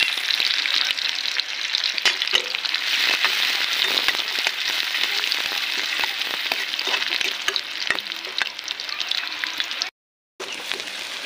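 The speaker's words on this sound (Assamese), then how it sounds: "পিঁয়াজ ৰচুন চলাই থৈছোঁ" Onion and garlic frying in hot oil in a pot, a steady dense sizzle with scattered stirring scrapes throughout and a brief break near the end.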